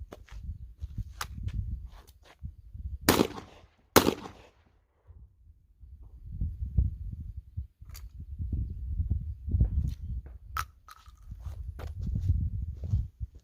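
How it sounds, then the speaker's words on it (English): Pistol fired at a fresh cardboard target at close fighting distance outdoors, two sharp cracks in quick succession followed by a scatter of fainter clicks and knocks over low rustling and shuffling movement. "So again, pistol fighting distances. Fresh cardboard."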